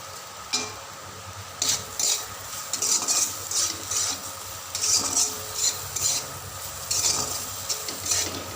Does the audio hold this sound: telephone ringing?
no